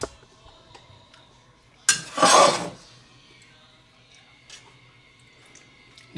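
Canned pinto beans tip from a jar into a cooking pan in one brief wet clatter and slosh of about a second, followed by faint clinks of cookware in a quiet kitchen.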